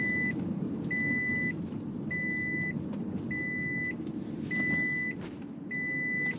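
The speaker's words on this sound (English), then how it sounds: "I've got some kind of beeping going." A car's airbag sensor warning chimes in a steady repeating pattern, six evenly spaced electronic beeps over the low rumble of a moving car's cabin, with no talking.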